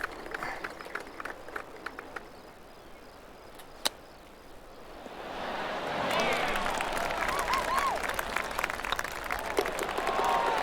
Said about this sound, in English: I don't like hearing the crowds if I can't see the crowds.